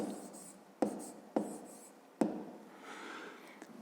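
Numbers handwritten on paper with a pen for a fifth-grade subtraction exercise, heard close up as continuous soft scratching broken by three sharp taps as the pen strikes the page.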